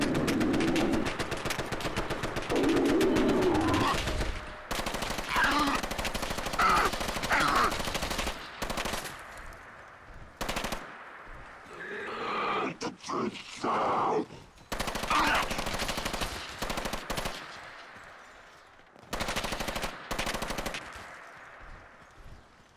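Sustained machine-gun bursts in Fallout 4 rattle loudly in long strings, stopping and starting with short gaps, alongside scattered other game noises.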